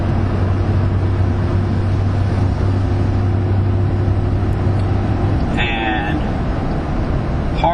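A van's engine drones steadily in fifth gear on the Mont Tremblant race circuit, a loud continuous hum with a low tonal note that cuts off near the end as a voice speaks over it.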